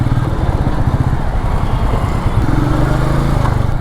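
A 2021 Royal Enfield Meteor 350 motorcycle with its single-cylinder engine runs close up, a loud, steady low thumping drone with a slight rise in pitch near the end.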